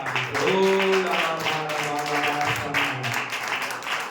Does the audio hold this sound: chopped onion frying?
no